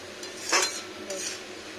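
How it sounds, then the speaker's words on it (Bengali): A spoon stirs cabbage and fish head curry in a pan, giving one louder scraping stir at mid-clip and a softer one later, with a faint low simmer underneath. "যত নাড়া দেবেন তত ভালো টেস্টি হবে মাছের তেলটা ভালো মিশবে"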